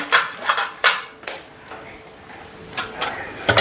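Eggs, five in all, cracked into a bowl and beaten for a chicken fried noodles dish, giving a series of sharp clinking taps and scrapes at an irregular rhythm, close and fairly quiet.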